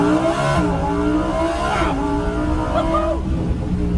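Lamborghini Huracan EVO doing a launch-control start, heard from inside with the window open: a loud engine roar climbing rapidly through several gear shifts in four seconds, close and dominant.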